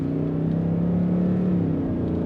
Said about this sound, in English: You can actually hear the exhaust in the back now.